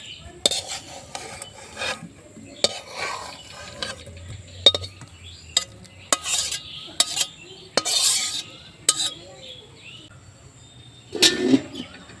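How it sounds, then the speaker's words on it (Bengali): A pot lid is lifted and a vegetable curry of lentil dumplings, potato, drumstick and ridge gourd is scooped into a bowl: scattered close clinks and scrapes of metal utensils against the pot, with soft wet stirring sounds between them. "এখন আমি ঢাকাটাকে তুলে নেব আর গামলার মধ্যে তরকারিটাকে ঢেলে নেব"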